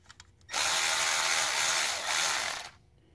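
A power driver spins to loosen a 5/16 hose clamp so a hose can come off, making one loud, close whirring burst of about two seconds that stops abruptly, with quiet before and after.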